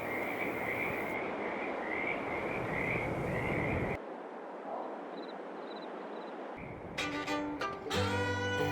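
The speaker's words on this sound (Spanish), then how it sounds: "descansar en la tranquilidad del lago con el cantar de las ranas" Frogs croak steadily by a lake at night in a farming video game, a dense chorus that drops away midway before tonal sounds enter near the end.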